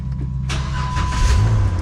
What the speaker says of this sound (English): Supercharged V8. Let her warm up. Listen to that sound.